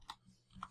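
Soft keystrokes on a computer keyboard, a few quick isolated taps with short pauses between them, quiet and close.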